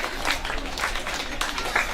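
Audience clapping at a swearing-in and handover ceremony, a brief, dense burst of hand claps filling the hall with no voices over it.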